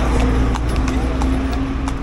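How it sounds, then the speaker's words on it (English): Horse hooves clip-clop on a street in Luxor, Egypt, an irregular run of close knocks over a low rumbling of traffic and idling engines. "I just don't want to ride the horses."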